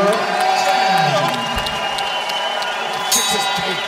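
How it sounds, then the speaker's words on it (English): A boxing arena crowd cheers and applauds during the tenth and final round of a heavyweight bout between Efe Ajagba and Brandon Glanton, a steady roar under a commentator's continuous talk. "this is Crowd showing respect for these two gladiators, Efe Apocci and Brandon Glanton."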